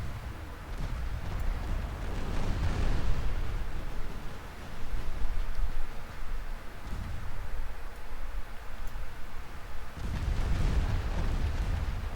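Heavy rumbling blasts and a sustained roaring wash from a torpedo strike sinking a ship in a naval battle game, swelling loudly in waves with no talk over it.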